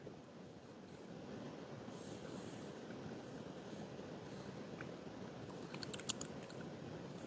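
Computer keyboard typing from a gamer's desk, heard as a faint scatter of soft clicks that thickens briefly toward the end, buried under a steady broadband hiss.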